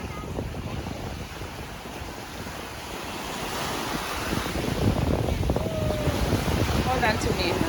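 Ocean waves at a beach: a continuous rushing surf that swells louder toward the end, mixed with wind buffeting the microphone and a faint voice in the background.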